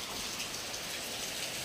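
Steady rain falling, a continuous dense hiss of drops on surfaces with no breaks, moderately quiet and even.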